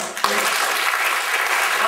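A comedy club audience claps together, a dense and even patter of many hands that holds steady for the whole short stretch.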